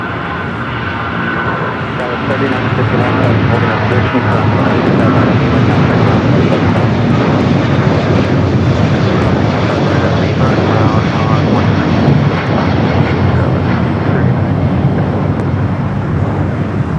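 An American Airlines Boeing 777 rolls down runway 25 right at LAX on its takeoff run, its jet engines building to a loud, sustained roar that holds steady throughout, with a voice speaking over the engine noise.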